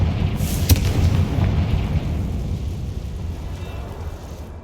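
A Confringo fire spell blasting in Hogwarts Legacy, a loud low boom with a sharp crack up front that rumbles on and slowly fades over several seconds.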